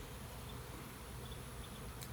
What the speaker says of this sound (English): just sitting out here watching the bees feast